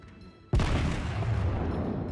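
Incoming shell fire in World of Warships lands as one sudden heavy boom after a quiet moment, followed by a rumbling, crackling decay that lingers for over a second.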